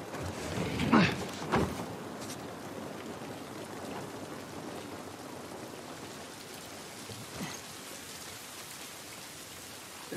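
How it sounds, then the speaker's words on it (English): Steady rainfall outdoors in The Last of Us video game, a soft, even hiss of drops on surfaces with a couple of brief louder spatters near the start, faint and continuous throughout. "This rain ain't gonna do us any good."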